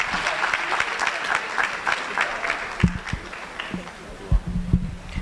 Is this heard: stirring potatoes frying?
no